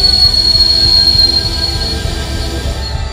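A train runs along a railway with a loud, steady rumble and a high, sustained wheel squeal, close by and continuous, with no voices.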